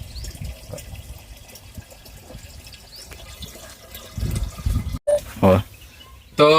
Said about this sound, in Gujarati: તો આપણે હવે પાણી ભરી દીધું